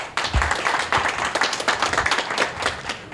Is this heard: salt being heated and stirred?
no